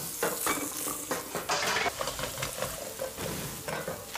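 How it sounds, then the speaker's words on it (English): Leeks and shallots sauté in butter in a pan, with a close, crackling sizzle broken up by repeated stirring scrapes and soft clinks of a utensil. "Butter, leeks and shallots sauteed in butter"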